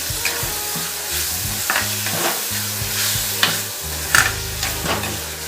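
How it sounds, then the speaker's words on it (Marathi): Tomato and coriander sautéing in hot oil for a dry moong dal sabzi, with a steady close sizzle and repeated spatula stirs and scrapes against the pan, over low tonal background music. "टोमॅटो मऊ होईपर्यंत परतवून घ्यायचा"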